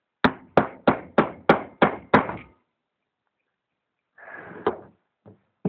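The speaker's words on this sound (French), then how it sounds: "Prenez le marteau, vous tapez." Hammer blows on a freestyle scooter headset: seven sharp, evenly spaced metallic taps close up, then a pause, a soft rustle with one more knock and a faint final tap.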